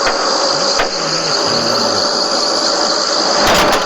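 Steady rumbling train noise from the Spider Train video game, a continuous loud roll with a faint high whine and brief mechanical pulses, carrying alone without voices.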